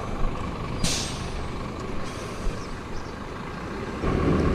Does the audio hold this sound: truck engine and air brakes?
yes